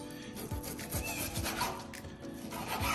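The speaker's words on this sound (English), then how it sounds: "all we're gonna do is just cut off some of this fat" A knife slices through the fat on a ribeye steak, a close, steady rasping and rubbing with short scraping strokes repeating throughout, no voices.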